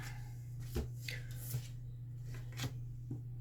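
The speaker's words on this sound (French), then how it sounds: "je vais faire une coupe" Tarot cards being cut and handled by hand in a quiet room, a few soft papery slaps and riffles spaced about a second apart over a steady low hum.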